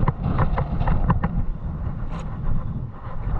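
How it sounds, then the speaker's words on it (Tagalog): Strong wind blowing across an open beach where fish are laid out to dry, a steady low rumbling buffet on the microphone throughout, with no talk. "Mabilis na matuyo kasi malakas yung hangin."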